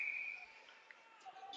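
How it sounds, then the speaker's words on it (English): Referee's whistle at a boys' varsity hockey game, Whitman-Hanson at Marblehead, one clear sustained blast at the start, then faint arena noise. "Whistle blows"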